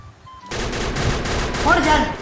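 Rapid automatic gunfire from a Free Fire battle, a dense burst of shots starting abruptly and running continuously, fairly loud and close, with game noise underneath.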